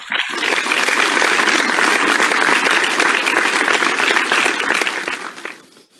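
Steady, dense applause from an awards-ceremony audience for an Emerging Talent Award recipient, a continuous crackling wash of clapping that holds for several seconds before tapering off.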